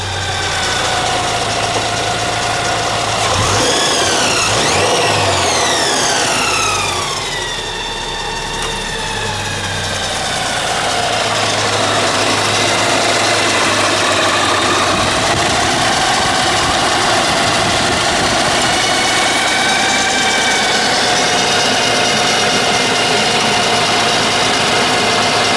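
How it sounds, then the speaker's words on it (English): Kraftwerks-supercharged Subaru BRZ engine running close and loud, revving up and settling back to a steady idle, with a whining tone from the supercharger and no talk. "just show you what it all looks like running. Give it a bit of a rev as well."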